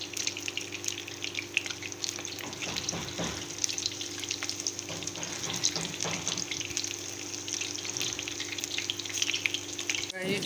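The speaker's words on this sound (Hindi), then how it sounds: "और मैं ऑयल में फ्राई कर रही हूँ इसको।" Chopped onion with green and red chillies frying in oil makes a steady, close crackling sizzle that runs throughout, with faint stirring scrapes now and then.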